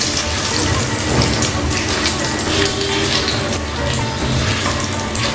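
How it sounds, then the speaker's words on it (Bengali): Whole spices, a dried red chilli and a bay leaf fry in hot oil over low flame, a loud, dense, continuous sizzle close up with no speech. "ফ্লেম কিন্তু আমি লোতে রেখে এই ফোড়ন ভেজে নিচ্ছি।"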